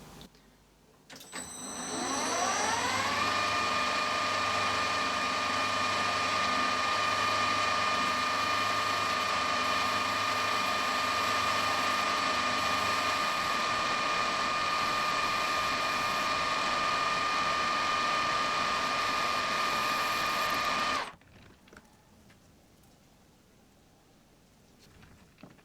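A lathe cuts a shallow counterbore into a model aircraft engine prop driver: the machine spins up, then holds a steady whirring hum with cutting chatter and a rattling pulse for about twenty seconds before stopping abruptly into near quiet.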